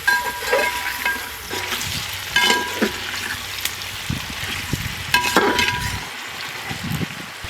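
Vegetables for a vegetable pulao sizzle and fry in a pan while being stirred, with scraping and clinking of the spoon in irregular bursts over a steady frying hiss, close and fairly loud, with no talking.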